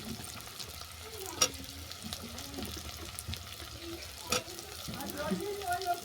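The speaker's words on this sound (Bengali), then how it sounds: "পেঁয়াজটাকে হালকা করে ভেজে নেওয়ার পর দিলাম কেটে রাখা আলু" Sliced potatoes frying in a pan with lightly browned onion, a quiet, steady sizzle with a few soft stirring clicks, close and faint.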